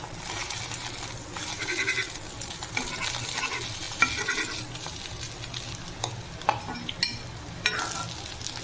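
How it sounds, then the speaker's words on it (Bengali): Pieces of an omelette cut from three eggs sizzle quietly in a pan as a spatula stirs them, making intermittent close scrapes and clicks. "দেখুন ডিমটা পিস পিস করে ভেজে নিয়েছি"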